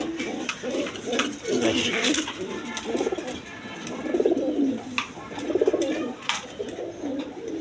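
High-flying Giribaz pigeons coo continuously nearby, soft throaty rolling calls overlapping one another in a steady chorus.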